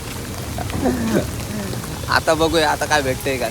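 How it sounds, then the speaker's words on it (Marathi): Steady rain falls with a constant hiss, heard under a voice as he speaks and then calls out. "जाम दिवसांच्या पाऊस आला."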